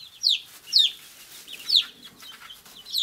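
Several short, high clucks from Polish hens, the crested chickens, come in three or four separated bursts over a quiet barnyard background.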